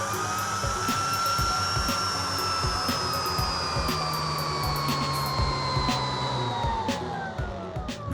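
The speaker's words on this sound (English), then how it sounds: "So I go back to my vacuum cleaner. I pitch it down, roll off the high and low frequencies," A steady, low mechanical whine with a slowly falling pitch, like a motor winding down, droning continuously with soft clicks scattered through it; a vacuum cleaner pitched down with high and low frequencies rolled off.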